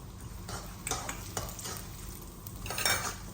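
Sesame seeds drop into hot oil in a pan and are stirred, giving a steady low sizzle. Scraping stirs and light clinks of utensils run over it, with no voices.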